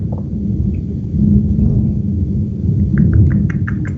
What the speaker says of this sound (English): Oh, sorry, I'm in a thunderstorm.